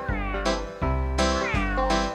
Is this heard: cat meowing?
yes